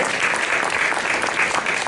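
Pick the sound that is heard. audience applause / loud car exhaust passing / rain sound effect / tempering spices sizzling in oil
audience applause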